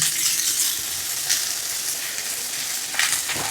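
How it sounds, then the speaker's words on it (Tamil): Large onions frying in a pan until golden, a steady close sizzle with a broad hiss running the whole time and a couple of brief stirring flares, no talking over it. "பெரிய வெங்காயம் வந்து இந்த மாதிரி பொன்னிறமாக வதங்கட்டும்"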